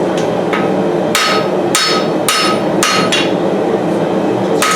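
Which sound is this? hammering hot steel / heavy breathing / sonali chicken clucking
hammering hot steel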